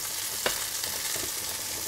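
Pollock frying in a pan, a steady close hiss of sizzling oil with a brief scrape or pop near the start and no voices.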